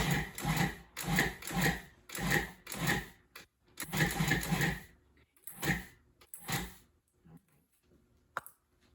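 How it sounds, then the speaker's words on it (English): A food processor pulses an all-butter pie crust mixture in a series of short bursts of about half a second each, loud and close, with brief gaps between them and a few quieter pulses toward the end. "you're going to pulse it around until you get chunked pieces that are about 1 inch to 1/2 inch"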